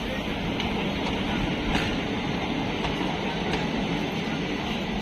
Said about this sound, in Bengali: আসছে হাজারদুয়ারি এক্সপ্রেস ধীরে ধীরে কষান খেতে খেতে যাচ্ছে